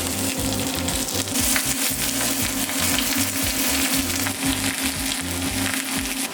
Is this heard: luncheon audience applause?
no